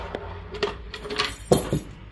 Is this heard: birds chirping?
no